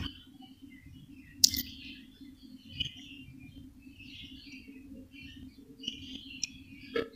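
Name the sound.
Australian doves chirping on a bird farm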